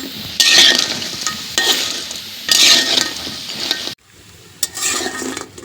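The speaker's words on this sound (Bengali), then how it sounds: "তো আমি ভালো করে এখন বাজিয়ে নিতেছি" Lentil fritters (dal bora) fry in hot oil in loud bursts of crackling sizzle, with metal clinks as they are stirred and a brief quiet gap partway through.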